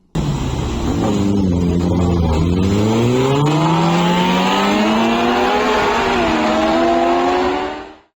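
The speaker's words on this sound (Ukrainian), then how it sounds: "Одразу три мотоциклісти влаштовують перегони." Motorcycles race along Pol Avenue in Dnipro at night, their engines screaming as they accelerate through the gears. A loud, rising and falling rev sweeps close by, then cuts off abruptly at the end.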